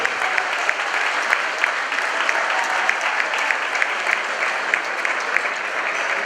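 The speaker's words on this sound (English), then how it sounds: "So let's get a round of applause for Mr. Ismael Da Silva" Steady applause from the audience at a Cape Verdean museum grand opening, a constant bright wash of many people clapping at even strength throughout, heard from within the crowd.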